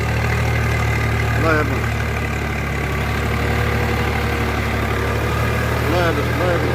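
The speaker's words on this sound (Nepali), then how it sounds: "यो ट्र्याक्टर लगाएपछि, यो रोटाभेटर लगाएपछि एकै चासमा रोप्न हुन्छ।" A tractor fitted with a rotavator runs steadily in a weedy field, its engine a constant loud low drone throughout while someone talks over it.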